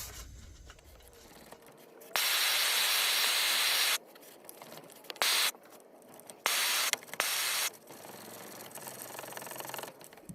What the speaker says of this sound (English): Losing a lot of pressure out of the check valve before I can close it